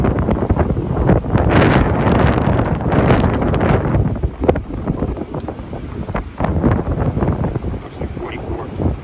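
Strong wind buffets a microphone on a Florida Atlantic beach after hurricane conditions, a constant loud roar with gusty surges throughout.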